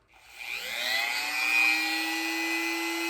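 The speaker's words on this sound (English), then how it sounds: "So let's Dremel that down." A Dremel rotary tool fitted with a barrel sander grinds down the plastic edge of a removable plate carrier for a bulletproof vest, spinning up from quiet into a steady, close, high-pitched whine that holds for the rest of the clip.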